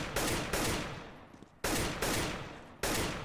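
Rifle gunfire in the game CS:GO: three loud, sharp bursts of shots in close succession, each ringing out and decaying, with a brief quiet gap between the first and second bursts.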